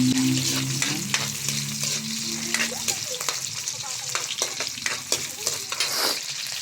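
Ingredients, including crushed pepper and papaya, sauté in a pan with a steady sizzle and repeated clacks of a utensil stirring; a brief hum and low voice sit under the opening moments.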